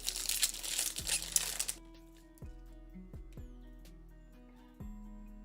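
Foil Pokemon card packs crinkle loudly for under two seconds as they are shuffled, then handling stops and a few soft taps and faint chirpy background sounds follow in near quiet.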